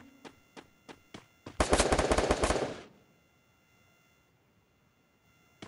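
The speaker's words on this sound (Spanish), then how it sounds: "Bueno, me están disparando." Gunfire in the Free Fire mobile shooter game: a few evenly spaced single shots followed by a loud, rapid automatic burst lasting over a second, then a fading tail into near quiet.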